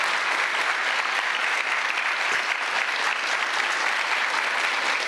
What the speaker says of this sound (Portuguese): Então eu queria que vocês, primeiro, batessem uma salva de palmas para o nosso ministro Camilo Santana